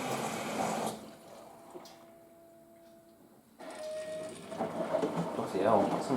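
A washing machine runs a rinse cycle, with sloshing water and churning rumble, a quieter hum with a steady tone in the middle, then louder swirling again, heard close.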